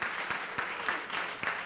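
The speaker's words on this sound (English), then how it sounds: "A round of applause" An audience at a Brooklyn healthy cooking workshop applauds Nzinga, a short burst of dense, steady clapping at moderate loudness with a few sharper accents.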